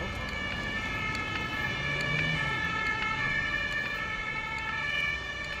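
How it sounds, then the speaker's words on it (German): An ambulance siren passes through Berlin's Wedding district near a hospital, wailing steadily and loudly over traffic noise for several seconds. "Alle paar Minuten hört man hier Krankenwagen vorbeifahren."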